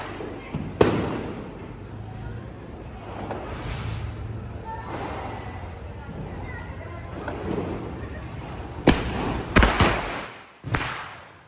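Diwali firecrackers burst outdoors in Bangalore, with several loud sharp bangs near the end after a stretch of muffled thumps and background noise, while people talk throughout.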